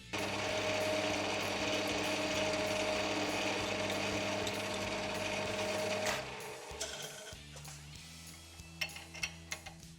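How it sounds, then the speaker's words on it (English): A drill boring through a brass part on a lathe, cut just oversized to clear a screw's threads, for a machinist's V-block. A steady mechanical whir and hum runs for about six seconds, then slows and drops, ending in a few light clicks and knocks. "And then drill just oversized to clear the threads on the screw."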